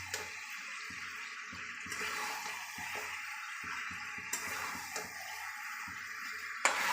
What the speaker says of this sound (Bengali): এই দেখো মাংসের ঝোল ফুটছে